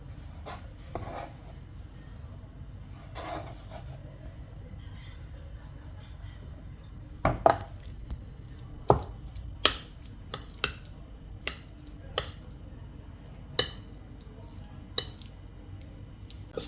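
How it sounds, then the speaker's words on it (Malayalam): Chopped chicken is stirred into sautéed stuffing for homemade chicken puffs, with a low steady rumble and, from about midway, a series of sharp, separate clicks and taps of a utensil against the pan. "ഇനി ഈ അരിഞ്ഞ ചിക്കനെ നമുക്ക് നേരത്തെ മാറ്റി വെച്ചിരിക്കുന്ന സ്റ്റഫിലോട്ട് മിക്സ് ചെയ്തെടുക്കാം."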